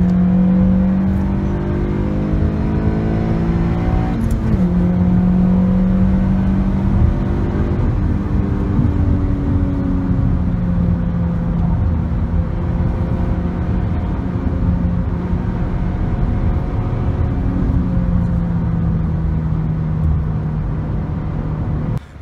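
A 2014 Honda Civic Si sedan on a drive, heard from inside as a steady engine drone rising through the gears, with tonal whine sweeping up and settling, loud and continuous under road rumble, no talking.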